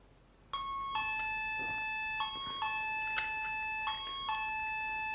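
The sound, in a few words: X9 GSM alarm door sensor doorbell chime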